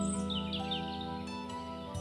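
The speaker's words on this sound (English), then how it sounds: "You can also hear the birds singing as they fly over you." Birds sing softly over a meadow: a few faint, thin chirps drift above a steady, calm music bed, distant and gentle.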